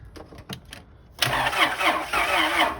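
A 1999 Acura TL engine cranks with a few quiet starter pulses, then catches and settles into a loud, steady mid-pitched running rumble close by, with no talking.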